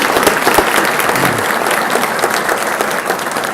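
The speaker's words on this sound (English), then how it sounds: "So can we have a round of applause for Mr. Preston Fraser?" A crowd applauding loudly and continuously, dense clapping filling the whole stretch without pause.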